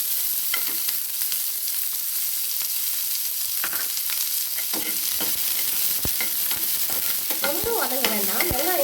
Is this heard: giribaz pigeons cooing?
no